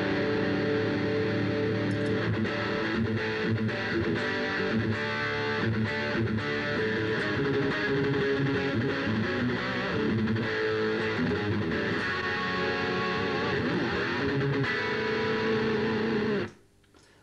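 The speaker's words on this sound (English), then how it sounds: "Back to their distortion sound, which Crate are renowned for, is a great distortion sound" An electric guitar plays through a 1993 Crate GX15 practice amp on its distortion channel, with sustained, buzzy chords and riffs ringing steadily at moderate volume before cutting off abruptly at the end.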